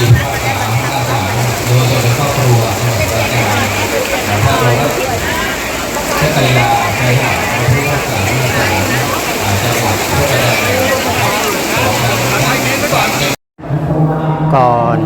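Heavy rain pours steadily over an outdoor temple festival, a loud, unbroken hiss of water on surfaces close by, with someone speaking over it throughout.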